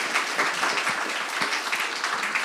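An audience at a book launch celebration claps enthusiastically, a dense, even burst of applause from a crowd filling the room with no voices on top.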